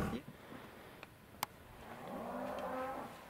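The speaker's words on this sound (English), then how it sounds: "We're kicking the cows out and they're pissed." Cattle being chased out of a truck camp in southern Utah let out a long, low moo that swells near the end, fairly distant and faint over outdoor background noise and a few small knocks.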